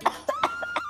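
An elderly woman gives a quick run of four or five short, rough coughs, close and moderately loud, with no talking.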